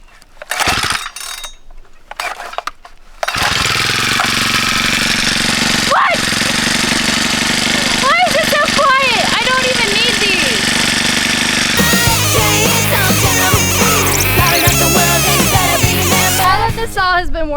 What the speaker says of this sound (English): let's try to start this thing up